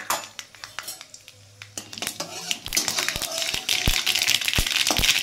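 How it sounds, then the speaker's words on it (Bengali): Mustard seeds and dried red chillies crackle and spit in hot oil, a close, busy patter of pops that thickens and grows louder toward the end, with occasional utensil clinks. "দেখুন সর্ষেটা ফুটতে শুরু করেছে"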